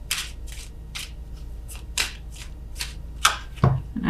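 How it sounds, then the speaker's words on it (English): Tarot cards are shuffled slowly by hand in a series of soft, crisp riffling bursts about every half second, close and alone, with a couple of louder taps near the end. "I'm shuffling extra slow"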